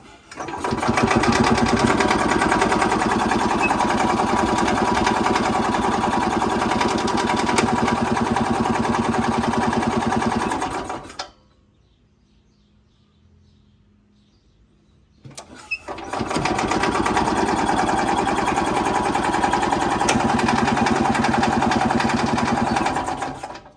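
A Robin two-stroke engine on an Ez-Go golf cart runs with a loud, steady buzzing drone, cuts out for a few seconds of near silence, then roars back at the same constant pitch.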